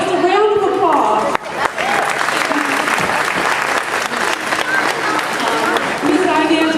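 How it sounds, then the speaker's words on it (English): Sustained applause from an audience of grandparents and kindergarten children fills a school gym, dense and steady for several seconds, with a brief dip partway through and some voices mixed in. "So that's a round of applause."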